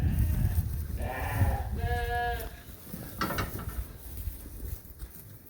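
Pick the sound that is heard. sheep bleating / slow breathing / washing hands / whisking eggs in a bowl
sheep bleating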